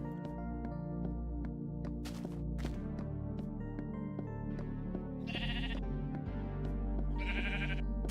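Several sheep bleat in a blocky video game world, with a couple of louder, brighter calls standing out over steady game music and ambient tones.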